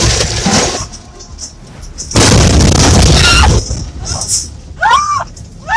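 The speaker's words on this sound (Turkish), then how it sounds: "fren yapmasına rağmen kontrolden çıkarak köprü bariyerlerine vuruyor" A semi truck skids out of control despite braking and slams into bridge barriers above a river. The crash is a loud, drawn-out burst of smashing and grinding, followed by quieter rattles and high, wavering cries.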